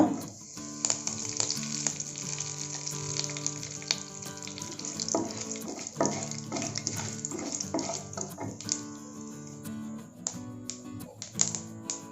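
Urad dal and curry leaves frying in hot oil for a rice side dish, a close, continuous crackling sizzle with sharp pops and occasional stirring clatter.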